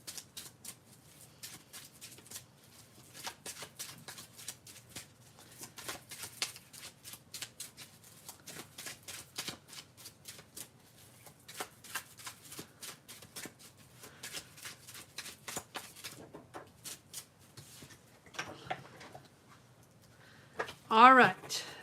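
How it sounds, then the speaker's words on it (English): Tarot cards being shuffled by hand, a steady run of soft riffling and flicking strokes over roughly twenty seconds, fairly quiet, with a sharper burst near the end. "Daniel, give me one moment to shuffle, and I'll be right with you."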